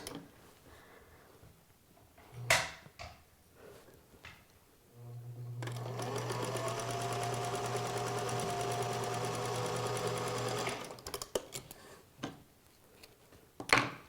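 A sewing machine stitching quilt patches together whirs steadily and close for about five seconds, with light handling clicks and taps before and after the run.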